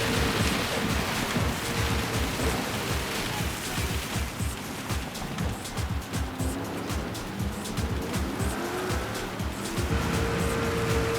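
Heavy rain in the Gran Turismo racing game, a dense steady wash of spray and hiss layered over a droning race car engine with shifting revs, loud and continuous, no talk.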